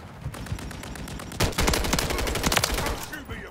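Rapid automatic gunfire from the Modern Warfare 3 multiplayer game, close and loud, with a short volley giving way to a denser stretch of overlapping shots.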